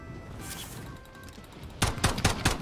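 Gunshots in Modern Warfare crack out in a quick rapid burst of five or six loud close shots near the end, following a stretch of quieter game ambience.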